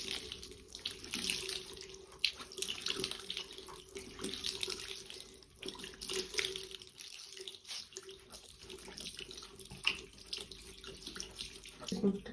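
Tap water running into a sink while makeup brushes and a sponge are washed by hand, a steady close splashing stream with handling noises and brief pauses.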